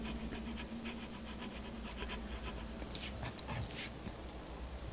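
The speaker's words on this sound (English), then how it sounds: "Sounds like a dog somewhere" Dog panting in the video game Royal Detective: Lord of Statues, a steady rhythmic breathing heard close over a low background hum, with a few faint whimpering yips near the end.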